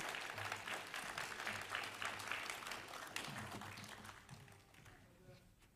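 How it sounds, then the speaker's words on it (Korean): Church congregation at a Sunday service applauding to welcome a guest pastor, sustained dense clapping that fades toward the end. "크게 환영하며 감사하는 마음으로 박수 한번 하도록 하겠습니다."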